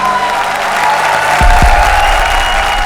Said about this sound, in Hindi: तो एक बार जोरदार तालियां हमारी तीनों जोड़ियों के लिए।